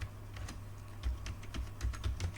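A command is typed on a laptop keyboard, with quiet, close, irregular key taps in quick bursts.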